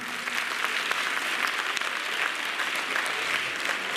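An audience at a state competition prize ceremony applauds a first prize winner, a steady, dense clapping that holds evenly throughout at moderate volume.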